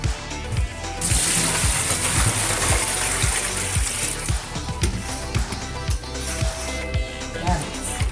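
Sliced potatoes for wafers swish and clatter as they are washed in water, with repeated splashes and knocks in an irregular rhythm, close by.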